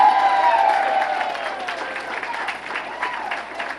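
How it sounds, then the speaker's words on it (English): A gala crowd in New York applauds ten congresswomen, continuous clapping with scattered cheers. A voice trails off over the opening, then the applause runs on alone, gradually easing. "Please, a round of applause for them."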